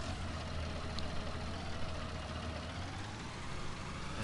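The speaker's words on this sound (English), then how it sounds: "This is a nice slow tractor." A tractor engine in a PS4 farming game runs at a steady low idle, continuous and close, with no talk.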